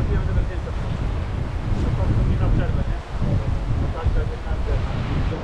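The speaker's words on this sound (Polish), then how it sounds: "bardzo silny wiatr" Strong wind buffets the microphone while cycling on Majorca, a loud continuous low roar with gusty fluctuations that stays steady for the whole stretch, with one brief dip near the middle.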